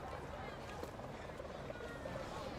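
A news helicopter drones overhead with a steady rotor rumble under constant talk.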